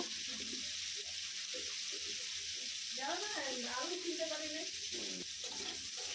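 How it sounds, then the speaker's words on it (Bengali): Prawns fry in hot oil in a home kitchen, a steady close sizzle under broadband hiss, with a brief stirring clatter partway through and no talking. "চিংড়িগুলো ভালো করে ভেজে নেব।"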